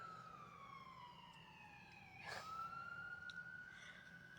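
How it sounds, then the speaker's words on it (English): An ambulance siren wails in faint, sweeping tones from a distance, rising and falling as it passes over a steady background hum. "There goes the ambulance"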